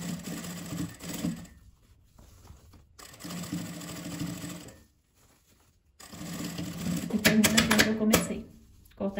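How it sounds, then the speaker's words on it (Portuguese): Sewing machine stitching fabric scraps with a backstitch, running in three rapid mechanical bursts separated by short pauses, the last burst louder and rattlier, close by. "Eu puxo. Eu dou um retrocesso. Venho costurando."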